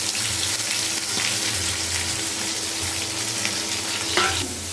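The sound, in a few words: onions frying in a pan with spices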